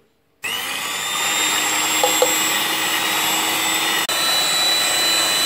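Egg whites are whisked in a pot for a sponge cake batter, producing a loud, continuous motor whir that starts suddenly and holds steady throughout, with a couple of faint clinks and no talking.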